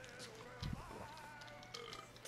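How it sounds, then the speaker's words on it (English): A single short, low burp erupts from a player during Black Ops gameplay, brief and close, over faint background game sound. "Oh, I burped."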